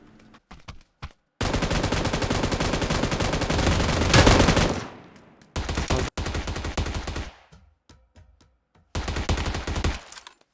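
M249 machine gun firing in the mobile battle-royale game PUBG: New State, with long sustained automatic bursts followed by shorter bursts and single shots, loud and close.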